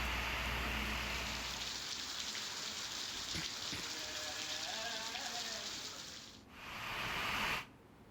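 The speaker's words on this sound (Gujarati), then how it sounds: "ધીમી ધારે મેઘરાજાની એન્ટ્રીથી વાતાવરણમાં ખૂબ ઠંડક પ્રસરી ગઈ છે." Gentle monsoon rain falls over Gujarat farmland as a steady, soft, hissing patter, continuous and even before it briefly dips and cuts off near the end.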